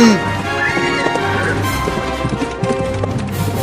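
Cartoon horse hooves clip-clop in a steady gallop over busy background music and effects, with a brief neigh near the start; the sound is close and moderately loud.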